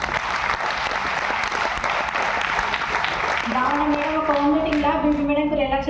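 An audience at a Vestige meeting breaks into steady, dense clapping that fills the room, and a voice starts speaking over the applause in the last couple of seconds.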